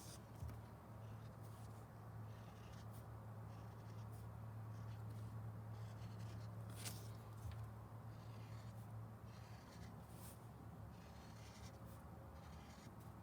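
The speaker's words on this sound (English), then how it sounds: "I'm just turning my paper as I draw in wavy lines." A pencil draws wavy lines on a sheet of paper as the page is turned, giving a faint, soft scratching that comes and goes over a low steady room hum.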